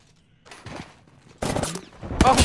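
Gunfire in the battle-royale shooter Apex Legends: two loud, dense bursts of shots come in quick succession after a quieter stretch, close and harsh.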